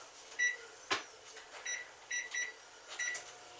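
A microwave oven heating milk, with a low hum, a door thump and several short beeps and clicks nearby.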